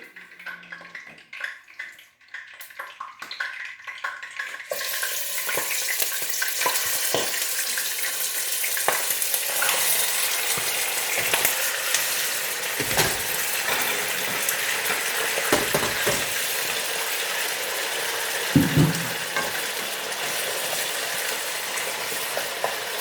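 Chicken pieces drop into hot oil in a pan for hariyali chicken, and a loud, steady sizzle begins and keeps going, with occasional stirring scrapes under it.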